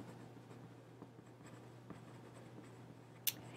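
A pen or pencil writes a name on paper, giving a faint, steady scratching with one sharp tap near the end; no one speaks.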